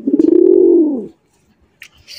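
A pigeon, one of a village flock of fancy racer, golla and giribaz birds, gives a single loud, close rolling coo lasting about a second, followed by silence and a couple of faint rustles.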